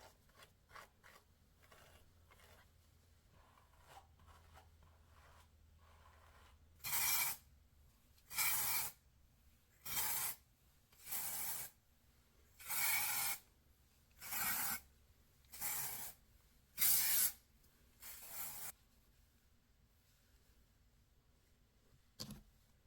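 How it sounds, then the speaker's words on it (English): Dry shampoo sprayed onto fine, thin hair from an aerosol can: about nine short, loud hissing bursts in an uneven rhythm, close to the microphone, following a stretch of quiet rustling. "But definitely gonna need a little dry shampoo"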